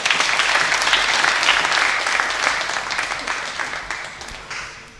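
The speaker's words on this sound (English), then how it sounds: "Please clap for yourselves." An audience at a debate event applauds the debaters, a dense burst of many clapping hands that fades gradually over several seconds.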